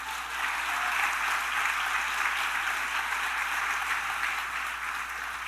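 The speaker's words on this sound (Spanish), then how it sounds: "Denle un fuerte aplauso al Señor." A church congregation gives a strong, sustained round of applause for the Lord: dense, even clapping from many people, steady and fairly loud throughout with no break.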